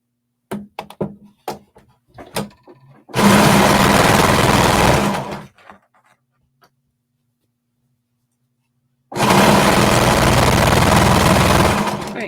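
Serger stitching fabric at a 3/8-inch seam allowance in two loud sustained runs of a couple of seconds each, separated by a quiet pause, with light clicks and handling taps at the start.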